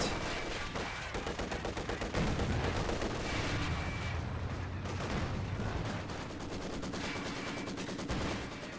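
Gunfire suppressing Grenadier infantry in the Company of Heroes 2 strategy game, with rapid bursts of machine-gun fire and heavier shots rattling continuously over a dense battle din.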